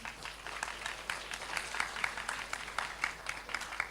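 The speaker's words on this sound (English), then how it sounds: "a big round applause for him." Sparse applause from an audience at an academic plenary conference session, thanking a speaker, Dr. Afif; light, scattered clapping spread evenly across the moment, moderately distant, with no talking over it.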